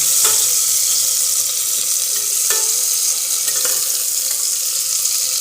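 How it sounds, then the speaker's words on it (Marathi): Two medium onions, sliced lengthwise, fry in hot oil in a pan with a loud, continuous sizzle, close up and steady, with a few faint clinks of a spoon stirring underneath and no voices. "हे दोन मीडियम साईज कांदे उभे चिरून घेतलेले आहेत ते घालूया आणि याला हलका गुलाबी कलर येईपर्यंत परतून घेऊया"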